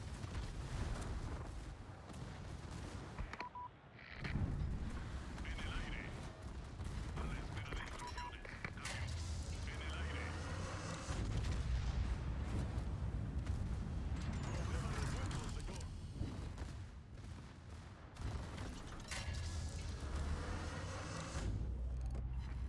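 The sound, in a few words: naval gunfire in the World of Warships video game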